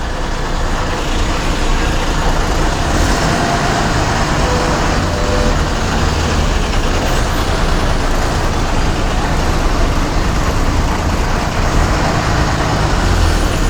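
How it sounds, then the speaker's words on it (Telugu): Dense, steady rumble of several buses lined up in Vijayawada traffic, engines idling and creeping forward together, a continuous loud roadway roar with no clear breaks. "5 బస్సులు ఉన్నాయి వరుసలో"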